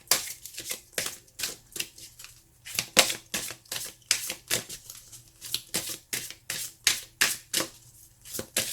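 Tarot cards being shuffled by hand, a rapid series of crisp riffling flicks and slaps in repeated bursts, close and clear, with no voices.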